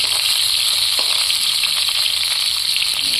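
Vegetables frying in a pan make a loud, dense, continuous sizzle with crackly spitting throughout, close and steady, with no voices.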